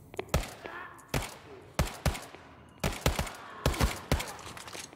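Magnum revolver gunfire in a video game, single heavy shots and quick doubles spaced by short gaps, sharp and close, with a speaking voice faintly underneath.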